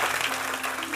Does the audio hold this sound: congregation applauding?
yes